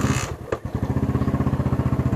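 A motorcycle engine idles with a rapid, even chugging pulse after a brief clattering knock, running close and fairly loud with no voices.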